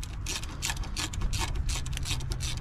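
Screws being tightened on a Briggs & Stratton Intek 20hp V-twin engine of a John Deere L120 mower: a close, rapid run of metallic ratcheting clicks in bursts with no talk.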